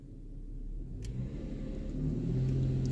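A 2005 Toyota Sienna with a loss of power under load revs up under acceleration, a low engine rumble that rises steadily in pitch and loudness from a quiet idle.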